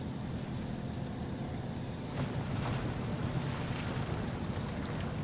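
Off-road truck in SnowRunner wading through a wet stretch in low gear with diff locks engaged: a steady, low rumbling wash of water and engine noise, swelling into louder splashing surges partway through, no talk.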